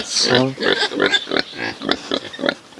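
A farm pig grunts and snorts repeatedly at close range, rough rhythmic oinks packed together, with people talking over it.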